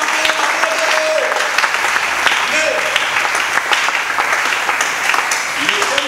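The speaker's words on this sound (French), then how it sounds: "Et si tu crois à cela, tu peux acclamer." A church congregation applauds loudly and steadily for the whole stretch, a dense wash of clapping with scattered cheers and shouts rising above it.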